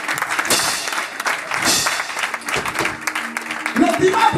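Churchgoers applaud during a pastor's sermon in a worship service, bursts of clapping rising and falling, with a voice speaking over the end of the clapping.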